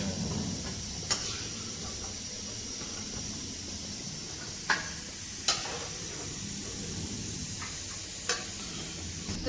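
Food frying in very hot oil on a home stove, a continuous soft sizzle with a few sharp pops and crackles scattered through it.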